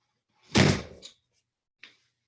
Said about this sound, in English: The dog just opened my door real quick.